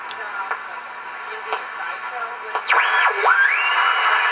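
A Midwest 18-36 eighteen-tube radio gives off a loud oscillator whistle that sweeps up and down in pitch over a steady hiss of static and faint clicks, heard close by.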